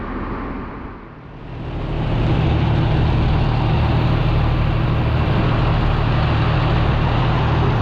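A tractor engine idles during corn planting, a loud, steady low rumble close by that dips briefly early on and then holds an even drone, with no speech.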